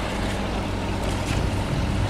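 A Superdong ferry approaching its dock, giving a steady, loud low engine rumble under broad wash of water and wind noise throughout.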